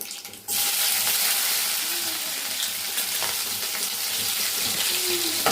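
Chopped vegetables drop into a hot pan for a curry and burst into loud, steady sizzling that begins abruptly after a brief quiet moment and continues crackling for several seconds with no talk.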